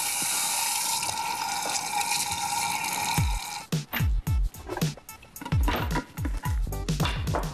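Hands wash under a running kitchen tap after cutting chili peppers. First comes a steady hiss of flowing water, then choppy splashes and gurgles as the hands move through the stream close by.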